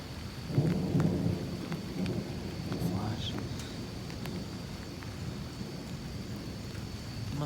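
Rumbling thunder rolls through a stormy night with steady rain falling, the low booming strongest near the start and then settling into a continuous wash of rainfall and distant grumbles.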